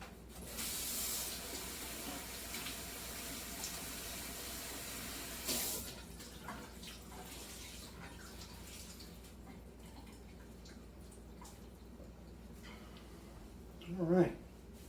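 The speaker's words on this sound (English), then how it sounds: "Got our dish towel we're going to wet with cold water." Cold water from a kitchen tap runs onto a dish towel during bread making, a steady broadband rush that is loudest early, then quieter and continuous with brief talk over it.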